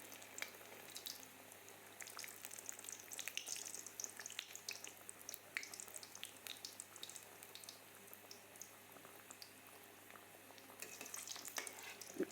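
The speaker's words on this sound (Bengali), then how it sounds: "খুব সুন্দর ভাজা হইতেছে" Chicken Mughlai frying in a pan gives a low, steady crackle with scattered pops, faint and continuous throughout with no voices.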